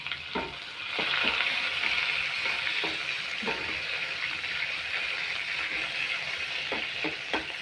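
Onions and green chillies fry in a pan for a beans and potato kurma, with a steady, hissing sizzle up close and occasional sharp clicks of stirring, no voices.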